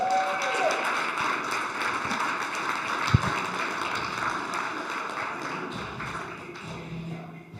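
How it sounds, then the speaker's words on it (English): Audience applause for a presenter taking the stage, a steady wash of clapping held at moderate level for several seconds, with music underneath and a single thump partway through. "warm round of applause for Josh Hadley."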